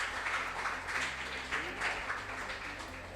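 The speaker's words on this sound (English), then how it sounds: "Please, let's clap for them." Audience clapping for a quiz team at a school maths contest, a dense, even patter of many hands over a low background hum, with no voices standing out.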